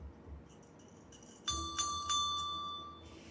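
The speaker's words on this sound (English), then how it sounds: "And I'm going to ring my bell." A single bell is struck once, leaving a clear, sustained ringing tone that slowly fades in a quiet room after a candle has been put out.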